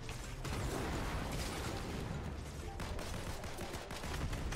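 Fortnite Chapter 4 battle noise: a constant, loud wash of gunfire and clattering, with scattered sharp pops that could be shotgun blasts.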